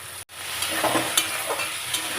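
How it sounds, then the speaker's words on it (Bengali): Spice paste of ginger, cumin and dried chilli sizzles steadily in a pan with potatoes and shrimp, a loud, continuous frying hiss with occasional stirring scrapes, close up and without voices. "মশলা আলু চিংড়ি সব কষা হয়ে যাচ্ছে"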